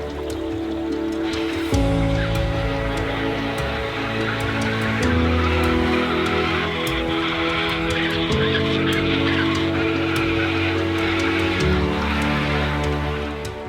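Storks and other birds call continuously at a crowded heronry, a busy overlapping chorus of honking and squawking cries over steady background noise.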